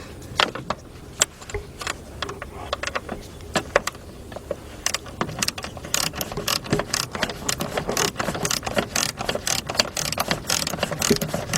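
Ratchet wrench with a 12mm shallow socket tightening bolts on the middle roller of a 2008 Honda Odyssey sliding door, giving repeated quick clicking bursts that grow denser and louder toward the end, up close with no talk.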